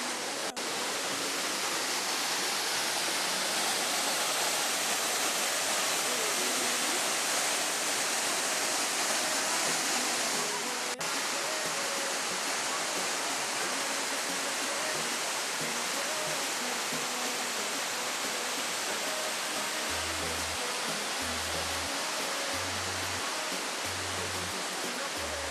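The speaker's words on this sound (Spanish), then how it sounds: "espectacular la cascada." A waterfall pours steadily near El Hoyo, a dense, even roar of falling water that stays loud and unbroken throughout.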